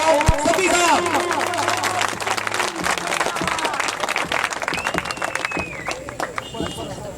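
An audience at a traders' association gathering claps as a guest is welcomed onto the stage, dense applause mixed with crowd murmur and voices that gradually thins out.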